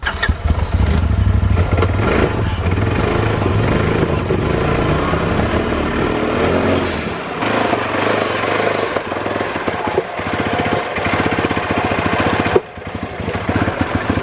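Polaris RZR Pro XP side-by-side engine running in limp mode at full throttle without power, a loud rough rattling idle-like drone with uneven pulsing and a sudden change near the end, no speech.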